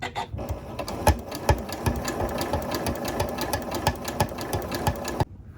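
A sewing machine stitches a flat felled shoulder seam on a shirt made from a thrift store tablecloth, a steady close mechanical whir with rapid ticking that runs for about five seconds and then stops abruptly, no talking.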